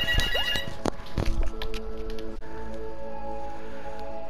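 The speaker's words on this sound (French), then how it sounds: "Ah, téléphone." A telephone rings with bright, repeated bell-like tones. The ringing is strongest early, then steady tones and a low hum continue alone with no talking.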